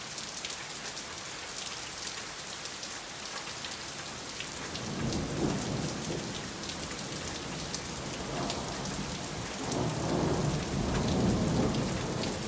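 Violent thunderstorm over Clermont-Ferrand in Auvergne with heavy rain hissing steadily on surfaces, broken by deep rolling thunder that swells twice, from about five and ten seconds in.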